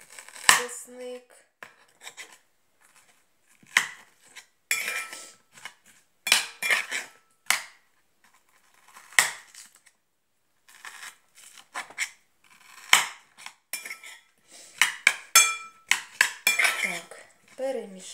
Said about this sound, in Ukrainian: перемішуємо нашу цибулю